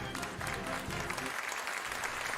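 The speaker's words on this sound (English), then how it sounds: "I love the applause." Studio audience applause at the opening of a live radio show, a dense, steady clapping that fills the whole stretch at moderate volume.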